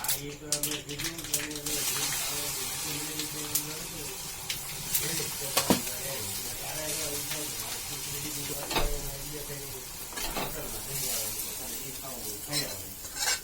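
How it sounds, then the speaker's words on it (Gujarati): Sesame seeds and curry leaves sizzle and pop in hot oil as a tempering for dhokla, a steady frying hiss with stirring clinks and scrapes throughout, under occasional voices. "મસ્ત તલ ફૂટી ગયા છે."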